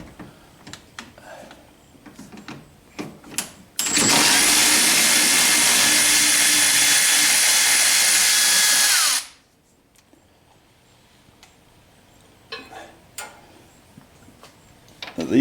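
Power ratchet on a 5/8-inch bolt of the radiator support of a 1976 Corvette restomod: a single loud, steady whirring run of about five seconds, with scattered clicks and handling noises before and after.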